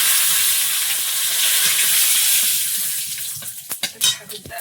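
Panch phoron spices and a bay leaf hit hot oil with a loud, dense hiss that fades after a few seconds into scattered crackles and stirring clatter.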